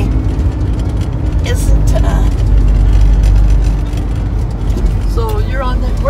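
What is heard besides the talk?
1986 Ford Ranger stick shift truck driving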